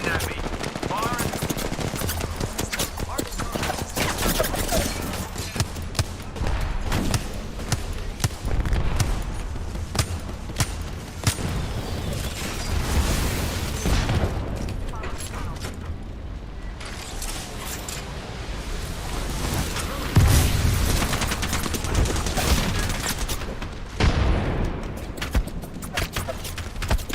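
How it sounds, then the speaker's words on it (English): Video game gunfire crackles almost nonstop as rapid bursts of sharp shots with mechanical clatter, fairly loud and sustained throughout, with a voice talking intermittently over the fighting. "They're shooting at me."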